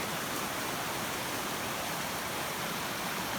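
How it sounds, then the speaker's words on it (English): Two small mountain creeks flow together in the East Kootenays of British Columbia, making a steady, dense, close rushing of water with no pauses and no voices. "We've got a couple of little creeks joining in."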